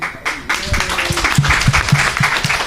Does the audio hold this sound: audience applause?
yes